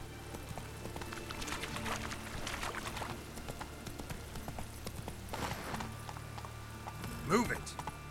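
Horse hooves clip-clopping at a steady gallop in The Witcher 3: Wild Hunt, a continuous moderate rhythm of hoofbeats with ambient game sound and a brief voice near the end.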